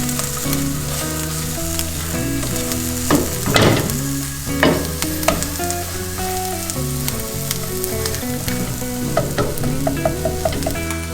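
Masala sizzles in a thick tomato gravy in a pan for paneer tikka masala, a loud steady bubbling hiss broken by repeated spoon scrapes and clatters against the metal.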